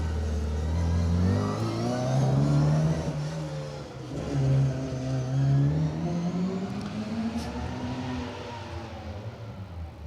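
A Mini rally car on an asphalt stage of the Manx Rally accelerates hard into a hairpin, its engine note rising and falling through revs in a continuous loud roar with no talk over it.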